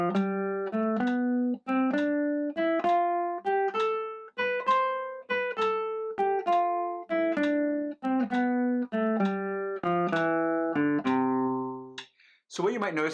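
An ascending and descending instrumental scale played in a long-short dotted eighth and sixteenth note rhythm, clear and close, each note sustained with steady tone and no talking.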